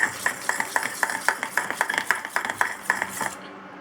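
A spoon beats keto paniyaram batter mixed with egg in a bowl, a quick steady tapping rhythm of around three strokes a second, close and clear, stopping just before the end.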